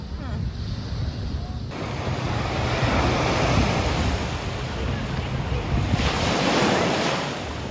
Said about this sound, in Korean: 바다, 바다를 찍어주세요, 바다를.